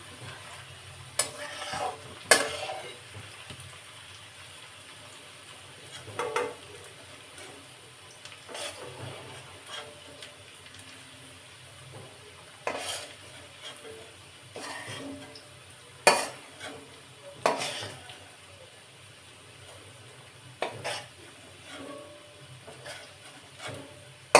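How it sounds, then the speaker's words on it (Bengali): Sliced onions fry in hot oil in a pan, with a steady soft sizzle under repeated sharp scrapes and clinks as they are stirred and lifted out to drain, with no voices. "আমি পেঁয়াজটাকে আস্তে করে থালায় তেল খাইয়ে তেলটা ঝরিয়ে নিয়ে আমি তুলে নিচ্ছি"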